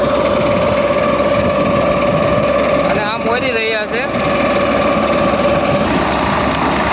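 An automatic chickpea thresher runs with a loud, steady engine drone and mechanical whine, while someone talks over it.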